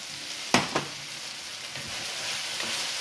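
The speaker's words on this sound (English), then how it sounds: "I'm gonna add my broccoli and cauliflower." Broccoli and cauliflower dropped into a hot pan with caramelized food, giving a sharp hiss and a couple of clatters near the start, then a steady soft sizzle throughout.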